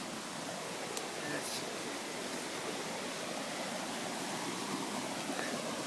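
Steady rushing creek water where two creeks converge in a rainy backyard, a broad continuous wash of flow with no talk over it.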